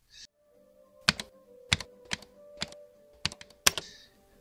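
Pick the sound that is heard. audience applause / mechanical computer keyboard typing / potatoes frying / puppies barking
mechanical computer keyboard typing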